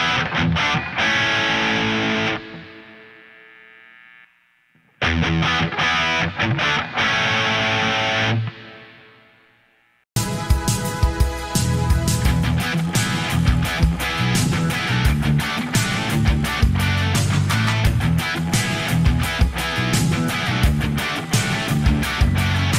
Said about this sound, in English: He's gonna be playing this amazing Les Paul through the Soldano SLO.